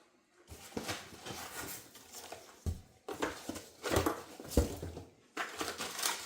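A cardboard box holding a bathroom vanity mirror is opened up close, with scattered crinkles, scrapes and soft thumps as flaps and packing are handled, interrupted by a few brief pauses.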